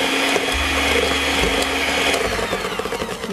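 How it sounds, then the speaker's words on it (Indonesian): Hand mixer on low speed beating nastar pastry dough made with Royal Palmia margarine, a loud close steady motor whir with a slight shift in pitch partway through and no talking. "Saya akan mixer kecepatan rendah aja."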